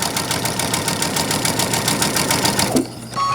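A sewing machine stitches steadily across quilt fabric from corner to corner, loud and close with a rapid even needle rhythm, then stops abruptly near the end with a brief mechanical whir.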